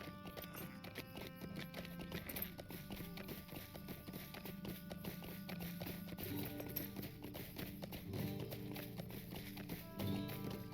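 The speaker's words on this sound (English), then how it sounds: "let's hop on our horse and head back in" A horse trots through the Old Forest in Lord of the Rings Online, its hooves clip-clopping in a steady, even rhythm from start to finish at close range.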